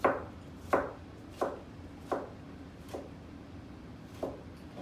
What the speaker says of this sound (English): slice the cucumber evenly on a board